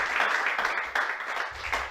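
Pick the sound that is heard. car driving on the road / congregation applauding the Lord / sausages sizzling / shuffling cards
congregation applauding the Lord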